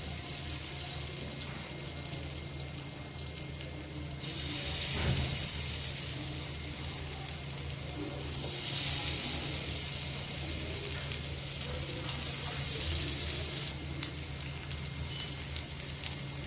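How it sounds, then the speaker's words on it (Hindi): Paneer tikka pieces placed one by one on a hot griddle sizzle steadily, with the frying hiss swelling in bursts as more pieces go down, close but fairly quiet. "अभी हमारा तवा जो है गरम है तो इसके ऊपर एक एक करके इस तरह से डालते जाएंगे।"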